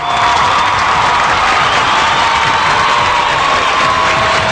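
An audience at a singing competition claps and cheers in a loud, dense, unbroken roar that fills the whole stretch, with no clear voices.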